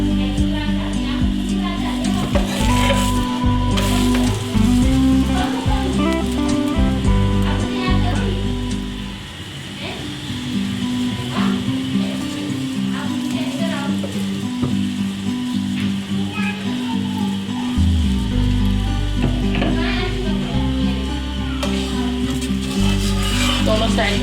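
An aloo paratha sizzles steadily in oil on a hot griddle, a soft constant frying hiss running beneath background music and someone talking.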